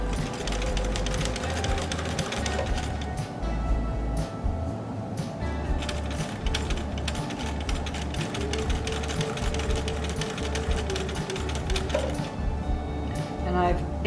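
A sewing machine fitted with a heavy-duty quilting needle works through a thick quilt square in a steady, continuous run, heard close under a low hum and background noise.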